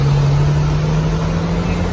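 A London bus pulling in, its engine giving a loud steady low hum and drone close by with some street noise around it.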